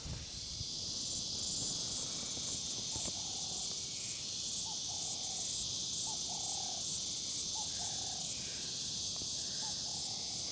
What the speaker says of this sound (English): This is the time of year for the cicadas to be singing.